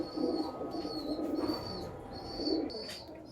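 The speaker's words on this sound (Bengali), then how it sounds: "এই যে দেখুন এটা একটা জিরিয়া পায়রা রয়েছে" A male Jiriya pigeon coos close by, several soft throaty coos in an uneven rhythm over about three seconds.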